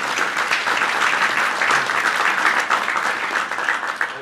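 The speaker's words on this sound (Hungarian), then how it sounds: "Nagyon köszönöm a tapsot" Sustained audience applause at a Hungarian political party's public forum in Ajka, steady and dense clapping from a crowd that fills the room throughout.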